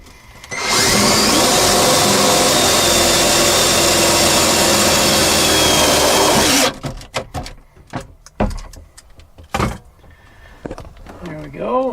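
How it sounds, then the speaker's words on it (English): A power driver runs tech screws into metal to hold down a lithium battery box in an RV, whirring loud and steady for several seconds, then giving way to clattering handling knocks and a brief voice. "So first thing is I'll put about 6 screws into this just to hold the box"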